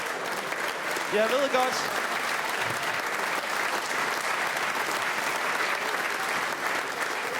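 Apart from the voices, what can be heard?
audience applause at stand-up comedy show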